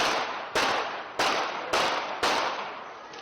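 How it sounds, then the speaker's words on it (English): Five sharp gunshots from the shooting of the Slovak prime minister, carried in recorded news audio, loud and spaced about half a second to a second apart, each a harsh crack with a brief decaying tail. "So there were 5 gunshots."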